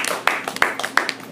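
Short burst of scattered clapping from a small audience at an open mic comedy night, a few distinct claps over a second or so.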